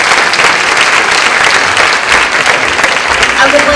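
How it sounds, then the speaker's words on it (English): A live audience at an evening event with Anthony Ray Hinton gives loud, dense, sustained applause, and a voice starts in near the end. "Let's give Mr. Hinton another round of applause."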